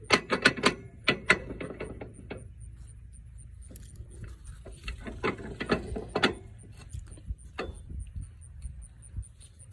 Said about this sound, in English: with the type of hitch I had to close it around the ball